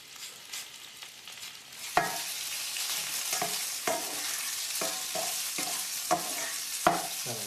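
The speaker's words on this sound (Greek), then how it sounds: "Θα ανακατεύουμε." Farfalle with artichokes, olives and pine nuts stirred in a sizzling pan, a constant frying hiss broken by several scraping spoon strokes, close and loud with no talk.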